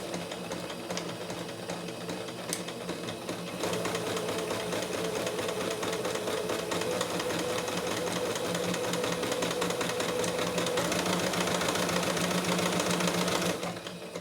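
Domestic sewing machine stitching a decorative border along a cotton tea towel, a steady close mechanical whir with rapid needle clatter that runs without pause and grows slightly louder partway through.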